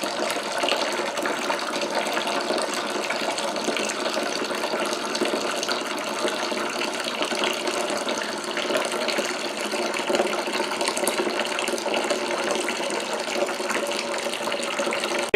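Water running steadily through rye whiskey mash grains during sparging, a continuous loud rushing and trickling flow with no talk over it.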